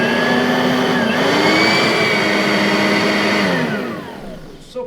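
On low speed, a Simplicity Riccar R10 vacuum cleaner runs with a loud, high-pitched motor whine whose pitch shifts slightly partway, then spins down as it is switched off.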